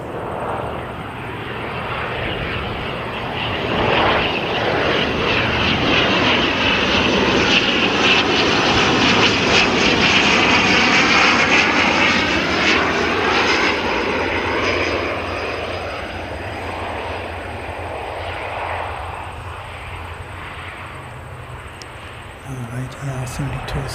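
An Air New Zealand ATR 72-600 turboprop arrives with a loud, steady propeller drone that swells and then fades slightly, with a brief voice near the end.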